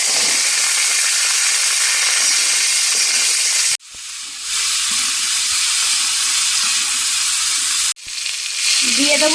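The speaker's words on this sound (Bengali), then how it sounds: "ফুলকপিটা হালকা একটু ভেজে নিয়েছি, এর মধ্যে দিয়ে দেবো আলু" Potatoes frying in hot oil with lightly fried cauliflower, cut with mustard-family seeds and black cumin, giving a loud, steady sizzle that briefly drops twice as food stirs in, with a short spoken phrase.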